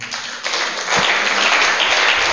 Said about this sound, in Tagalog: hallelujah, sige palakpak sa Panginoon